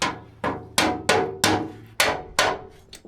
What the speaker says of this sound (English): A little bit with help of hammer.